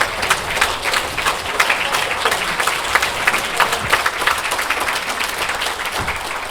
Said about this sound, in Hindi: ताली बजा के खड़े होकर।